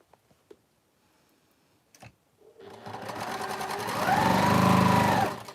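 A sewing machine stitches quilt pieces together, running up from a few faint clicks into a steady, loud mechanical whir that swells and then stops abruptly.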